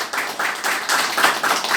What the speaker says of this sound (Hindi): इसी बात में जोरदार तालियां बजाइए हमारे लिए।